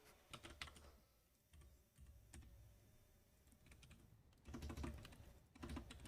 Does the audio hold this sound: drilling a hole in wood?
no